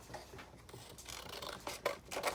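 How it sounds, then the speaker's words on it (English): Quiet snipping and rustling of scissors working through paper, a few soft cuts close by with a louder crunch near the end. "I just take my scissors and whack it off"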